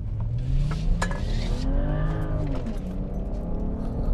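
A BMW 335i accelerates hard after a U-turn, its engine note rising in a steady, loud drone with shifting harmonics and brief sharp transients, heard from inside the car with no talk.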